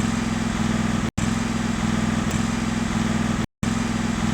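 A riding lawn mower engine, started by jumping across its solenoid, runs at a steady loud mid-pitched chug, broken by two brief cuts of silence.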